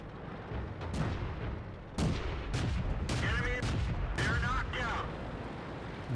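A tank gun in World of Tanks, on a British MkIII or MkIV, fires rounds in rapid succession as sharp booming shots with rumbling tails, a pair early and a quick cluster later, alongside in-game engine noise.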